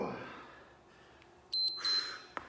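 A workout interval timer gives two loud, sharp electronic beeps in quick succession, close by, after a quiet stretch, with a small click at the end.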